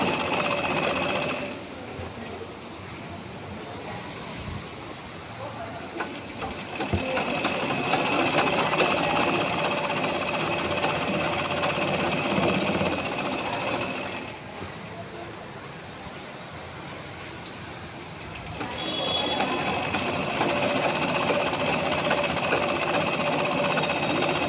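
Sewing machine stitching lining cloth, sewing a hidden double row of stitches on the inside. The steady mechanical whirring comes in long bursts with short pauses between runs, fairly close and loud, with no talking.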